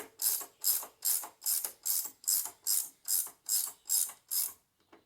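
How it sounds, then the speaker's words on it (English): A ratchet tightens a nylock nut on the steering of a Cub Cadet 1882 garden tractor, giving eleven quick, evenly spaced rasping clicks up close that stop abruptly. "Tighten up this nylock on the bottom here before I forget it."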